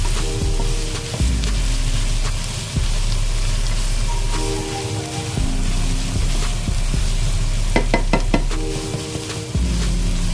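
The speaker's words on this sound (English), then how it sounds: "Keep your eyes on the stove and then give it a quick mix." Veggies for stovetop baked beans sizzling in a pan, a loud continuous fry with low rumbling and scraping stir strokes, plus a quick cluster of sharp taps near the end; no talking.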